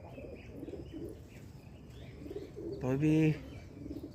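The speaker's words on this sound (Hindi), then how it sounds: "और दोस्तों एक पिलंगा कबूतर देखिए यहाँ पे ऊपर है, ये रहा" Pigeons on a rooftop give one short, clear coo partway through, with faint chirps and outdoor background around it while someone speaks briefly nearby.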